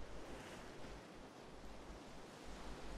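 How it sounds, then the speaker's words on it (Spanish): Rain and water wash along a dark coastline in the video game Diablo IV, a soft, continuous surf-like hiss with a low rumble, faint and steady without voices. "ahora miren las costas, el agua también como suena con la lluvia"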